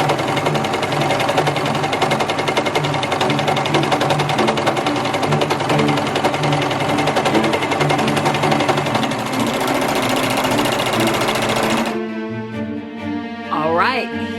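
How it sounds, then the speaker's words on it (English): Singer Heavy Duty serger stitching through stacked layers of denim, a loud steady mechanical whir with fast rhythmic needle chatter that runs without a break, then stops abruptly near the end as a voice begins. "let's see how many layers the Serger Heavy Duty can sew through."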